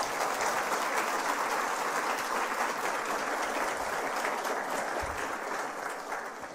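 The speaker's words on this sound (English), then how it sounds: "let us once again welcome all our speakers with a huge round of applause." An audience at a women's symposium claps in a steady, dense round of applause, even and sustained throughout and fading slightly at the close.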